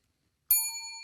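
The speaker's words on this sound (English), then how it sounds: "All right, let's ring that bell." A small tinkly bell is struck once, a bright ding that rings out with a clear, sustained shimmering tone in otherwise silent surroundings.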